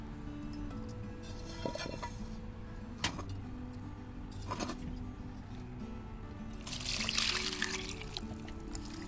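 Six tomatoes and several green chillies are rinsed in water: light clinks and knocks against a vessel, soft trickling and splashing, and a louder swish of water near the end, close and without talk.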